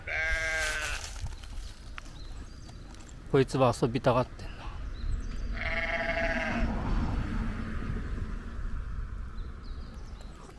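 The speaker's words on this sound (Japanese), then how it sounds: "あそこには羊がいますね。 子羊、ちっちゃいのがいますね。" Sheep and small lambs bleat on a hillside along a long-distance hiking trail, a few short wavering cries near and far, with a voice talking briefly over them.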